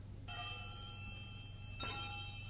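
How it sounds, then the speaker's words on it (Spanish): A bell rings at the start of a horse race, sounding as two bright metallic strikes about a second and a half apart, each leaving a sustained ringing tone over a low hum. "¡Campana de largada!"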